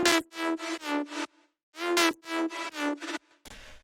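A bright synth lead patch from a Seven Skies Kontakt library plays a short melodic phrase of sustained, harmonically rich notes with brief gaps, heard alone and fairly quiet.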